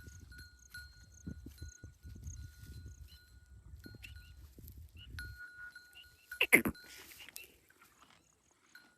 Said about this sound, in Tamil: ஆடு வந்து பார்த்திங்கன்னா இங்கே தாங்க கட்டியிருக்கேன்.